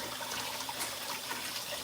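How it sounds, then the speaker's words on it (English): Cloudy rinse water is poured off soaked rice in a kitchen, a short, soft, continuous splashing trickle close by. "So you see we on rinse number 2. Still cloudy. I'll pour it off."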